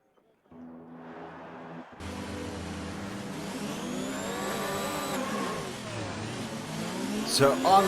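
Race car engines in a sim racing game at the Singapore GP: a steady mechanical whine rises and swells as revs climb, with gear-shift sweeps and a loud surge near the end, under a commentator's voice.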